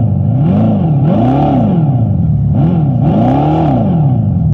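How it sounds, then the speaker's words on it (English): Loud synthetic engine-like roar from the Fratzonic exhaust speakers of a Dodge Charger EV Scat Pack, rising and falling in repeated revving swells, a droning whir pulsing up and down close by. "So this is what the Fratsonic speakers sound like on this car."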